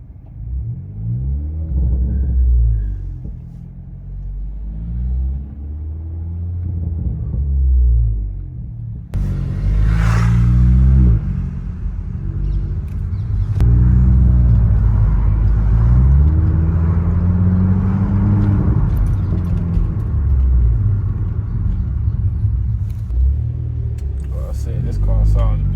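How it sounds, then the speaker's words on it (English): A car with an EcoBoost engine idles with a low rumble, then revs up sharply. The engine note climbs and falls in loud, close surges. "This car sounds beautiful."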